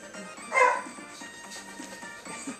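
A single short dog bark or yip rises faintly over a muffled background, a brief close call lasting under a second.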